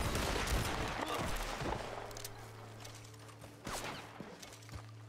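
Gunfire in the Red Dead Online video game, a loud volley of shots at the start that thins into scattered single cracks over a steady low hum.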